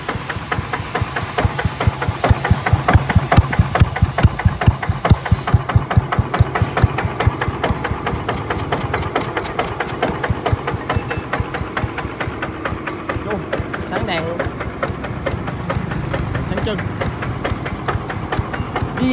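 Yanmar NF80 diesel engine idling nearby, a steady rapid knocking chug with even pulses throughout, loud and close, with brief talk over it.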